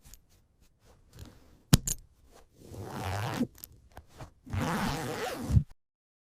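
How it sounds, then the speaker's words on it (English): A clothing zipper, stuck and loosened with soap, is pulled open and closed in two long rasping strokes, preceded by a few quick clicks, close and clear with no voices. "Soap fixes stuck zippers fast."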